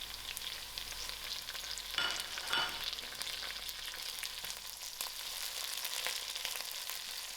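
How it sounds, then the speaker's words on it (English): Fresh curry leaves and thyme fry in hot oil with biryani spices, a quiet steady sizzle and crackle with a few sharper pops, close by and without talk. "I'll give this a few seconds to fry out."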